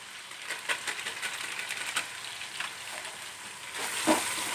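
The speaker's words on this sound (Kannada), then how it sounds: "ಇವಾಗ ಹಿಂಗೆ ಫ್ರೈ ಮಾಡಬೇಕು" Spices and biryani masala frying in a pan give a soft, steady sizzle with scattered crackles and small stirring clicks, one brighter scrape near the end, with no voices.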